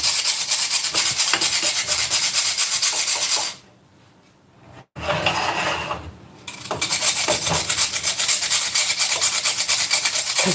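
Food rasped on a handheld grater held from the side, its handle broken: rapid, loud, continuous scraping strokes, briefly pausing midway before the grating resumes with the same coarse rhythm.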